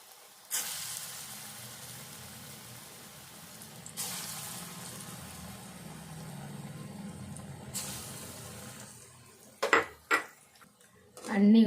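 Moong dal batter fries in a pan with a steady close hiss that swells in two fresh bursts as more batter goes in, followed by a few sharp clinks of utensils against cookware.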